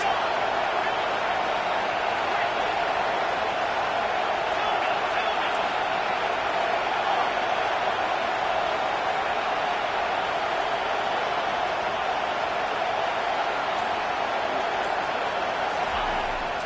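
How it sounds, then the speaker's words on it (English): A dense, continuous crowd roar fills the space at a steady level, like a packed stadium cheering without pause, in a college football video game. "Listen to this crowd just shaking the girders of this place, trying to help their defense."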